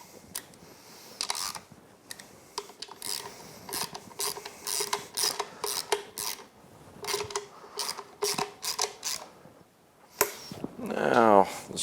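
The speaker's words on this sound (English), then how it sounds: "Now let's go ahead and get the coil packs bolted back down." A ratchet wrench clicks in quick repeated bursts while bolting coil packs onto a Yamaha F225 outboard powerhead during a rebuild, close and clear with brief pauses between runs.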